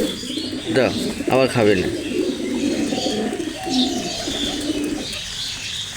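Pet pigeons coo in soft, rolling bursts close by, mixed with other bird chirps while a person talks over them.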